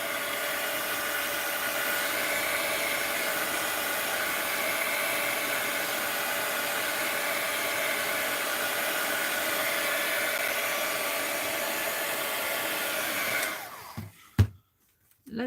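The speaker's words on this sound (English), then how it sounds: "I just got a few more here to hit it with the heat gun" A heat gun blows hot air over drying paint in a studio, a loud, steady close-up rush that holds unchanged for most of the stretch before cutting off near the end.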